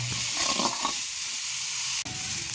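Tomato masala and vermicelli kichadi sauté in a pan with a steady close sizzle and soft stirring scrapes. A brief sharp knock comes near the end, then the frying continues.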